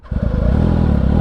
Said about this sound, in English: The Graves exhaust, highly recommend if you have a ZX6R looking for a slip-on.